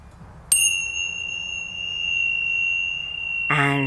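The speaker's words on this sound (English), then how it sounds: "I'm going to ring the bell" A single bell strike rings out clearly and then sustains as a long, steady, bright tone that slowly fades, with a voice starting up near the end.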